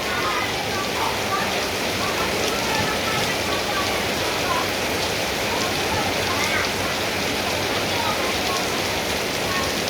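Steady rain falls on a surface outdoors while Tillandsia air plants are watered, a dense, continuous hiss and patter that holds at an even level throughout, with no voices present.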